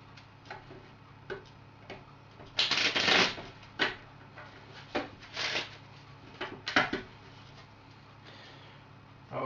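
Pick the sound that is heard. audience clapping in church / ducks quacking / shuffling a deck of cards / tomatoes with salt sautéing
shuffling a deck of cards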